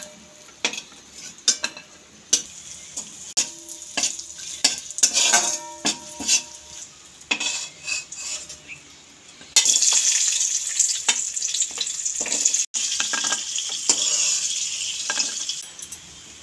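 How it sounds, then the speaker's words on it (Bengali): Fruit pieces such as pears and grapes frying in hot oil and ghee for a Janmashtami offering, with a steady sizzle, metal utensil scrapes and pan clatter, and a louder burst of spitting oil partway through. "এরকমভাবে প্রত্যেকটা ফল আমি এরকমভাবে ভেজে ভেজে তুলে নেব"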